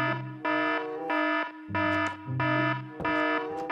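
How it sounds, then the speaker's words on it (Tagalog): A tsunami alarm in the video game Minecraft blares in loud, repeating electronic siren pulses of about half a second each, shifting pitch between blasts, with no talk over it. "Yun yung tsunami alarm."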